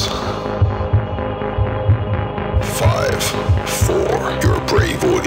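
Deep heartbeat sound effect portraying a frightened, terrified heart, with steady low double thumps repeating under a droning hum, followed by rising eerie noises toward the end.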